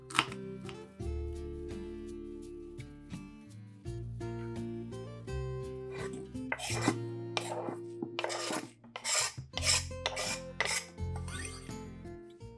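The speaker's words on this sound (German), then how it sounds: "Nun schneide ich noch etwas Petersilie in feine Streifen" A knife cuts parsley into fine strips on a board, quick rhythmic chops in bursts with short pauses, close and crisp, no voices.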